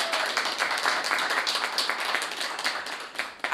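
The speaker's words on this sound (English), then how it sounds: "Give them a round of applause." Audience at a formal debate competition giving a round of applause, steady crisp clapping from a moderate-sized crowd, fairly near and continuous without talk.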